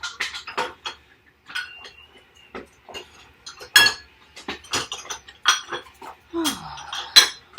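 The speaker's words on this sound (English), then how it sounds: "we're going to whisk in some flour to make a roux" A whisk clinks and scrapes against a metal pot while flour is stirred into a roux, with quick irregular bursts of metallic tapping close by and short pauses between strokes.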